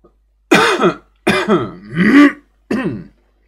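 A series of four close, loud coughs or throat-clearing bursts, each about half a second, separated by short silences.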